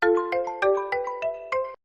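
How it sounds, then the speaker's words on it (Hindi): A mobile phone ringtone plays in a home kitchen scene, a bright repeating melodic tone in six quick, evenly spaced pulses, loud and close, with no talking over it before it cuts off. "मेरा मोबाइल बज रहा है"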